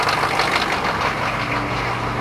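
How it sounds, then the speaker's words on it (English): A fuel-injected engine held at fast idle, a steady broadband running drone with a low hum, continuous and close for the whole stretch with no talk over it. "Crank her up! Set the fast idle."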